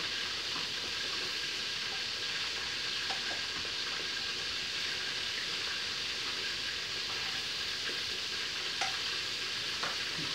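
Zucchini frying in a pan with olive oil, salt and oregano while being stirred, a steady soft sizzle with occasional scrapes and light taps of the spoon against the pan, no voices.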